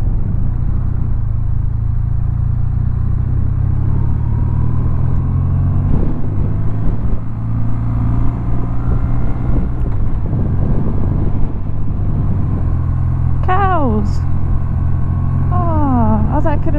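A BMW R12 motorcycle engine drones steadily while riding, with a low, even hum under heavy wind rush. A brief rising whine comes near the end, and a voice talks faintly over it.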